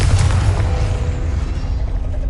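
A Confringo fire spell explodes in Hogwarts Legacy, a loud, deep boom that rolls and slowly fades over a couple of seconds.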